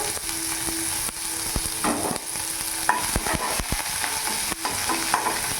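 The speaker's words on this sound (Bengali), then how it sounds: "তেল গরম হয়ে গেছে, এখানে আমি পেঁয়াজ কুচনোটা দিয়ে দেবো।" Chopped onion hits hot oil and fries with a loud, steady sizzle, broken by the scrape and clatter of stirring, close by with no talking.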